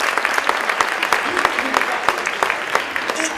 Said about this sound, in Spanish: así que un fuerte aplauso por su generosidad.